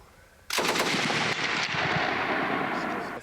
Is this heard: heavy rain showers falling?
no